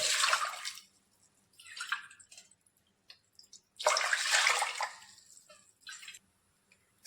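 Water is poured into a large cooking pot in several close, splashing bursts with quiet pauses between them, as six cups are added for heating.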